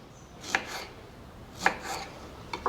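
A knife chopping brinjals for pickle, heard as spaced pairs of close, crisp cuts against a quiet background.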